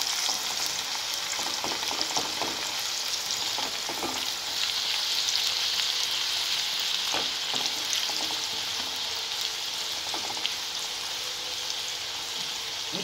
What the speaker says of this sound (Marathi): कांदा 1-2 मिनिटं तेलात छान भाजून घेऊया, गुलाबी होईपर्यंत.